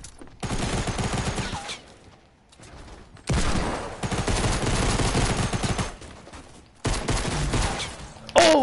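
Gunfire in a sniper shootout video game: dense bursts of shots and rapid automatic fire come in three loud stretches separated by brief quieter gaps.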